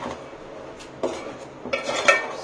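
Raw crab is mixed with salt and chili in a metal vessel, giving a few loud clattering, scraping knocks of shells and utensil against the pot, close and without talk.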